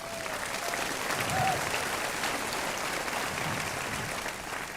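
Sustained audience applause at the QuickBooks Connect 2015 business conference, a dense, steady clapping wash filling the hall for nearly five seconds, swelling slightly near the start before easing off toward the end.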